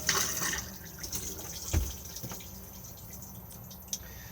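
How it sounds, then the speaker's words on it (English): Cassette toilet in an Elddis Xplore 304 caravan being flushed: a quiet trickle and drip of water close by, with one soft thump partway through and no talk. "it's just a matter of pressing the blue button to flush"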